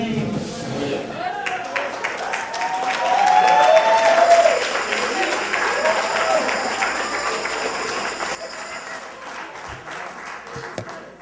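Audience clapping at a birthday celebration house party, a steady crowd of hands that swells in the middle and tapers off near the end, with singing and voices mixed through it.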